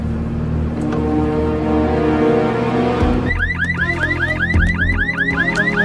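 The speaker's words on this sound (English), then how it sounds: "You always call 911 when you hear a car alarm go off?" A car alarm goes off nearby, its repeating electronic siren wail cycling rapidly and loudly over an idling engine rumble, with no talk over it.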